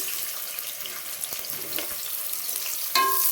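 Sliced onions frying with whole spices for chicken biryani, a low crackling sizzle with occasional stirring scrapes, then a brighter splash of water near the end.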